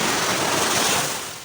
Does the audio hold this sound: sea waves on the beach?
yes